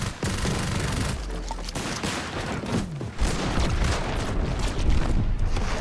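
Rapid automatic gunfire spraying an opponent in a competitive video game build fight, a dense crackling barrage that fills the whole stretch with brief lulls, loud and close.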